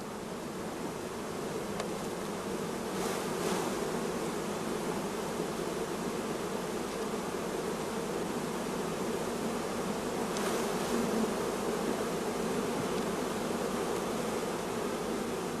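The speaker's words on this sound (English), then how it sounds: "other bees can be shaken into the box after the frames have been closed up" Honey bees buzz steadily around beehive boxes while nuclei are being set up, a dense continuous drone at an even level throughout, with no voices.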